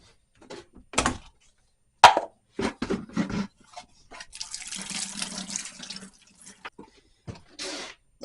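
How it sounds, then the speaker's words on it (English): A car part being scrubbed and rinsed with soapy water at a sink, with intermittent splashes, running water and scrubbing bursts separated by short pauses. "Then we'll do a scrub and rinse."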